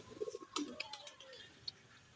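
Pigeon cooing nearby as a newly bought pigeon that escaped flies back and lands: a few soft low coos and throaty notes, fairly faint, with brief flutters and small sounds around them.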